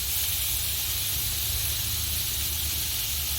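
Melted butter sizzles on meat and onions on a Blackstone flat-top griddle for street tacos, giving a steady, close, even hiss that holds at the same level throughout with no voices.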